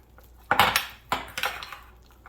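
A spoon scrapes and clinks against a bowl while stirring cream cheese seasoned with jalapeno rub, in two or three short bursts of clatter separated by brief pauses.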